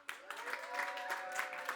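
Live audience applauding at an event, a steady wash of clapping with a few louder peaks, fairly distant and diffuse throughout.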